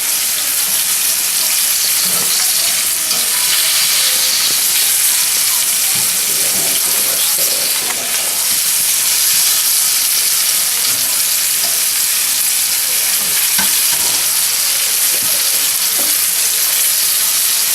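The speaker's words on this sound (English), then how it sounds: "You want to make sure these get nice and brown. You want to sear them up real good." Venison shanks sear in a hot pan with a loud, continuous sizzle and crackle, a few sharper pops and stirring scrapes rising from the steady frying hiss.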